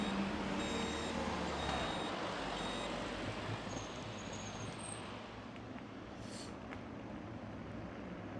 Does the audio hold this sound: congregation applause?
no